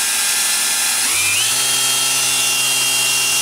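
An air-powered tool driven by a freshly recharged compressor spins up, its whine climbing to a higher, steady pitch and holding there, loud and close, with no talking.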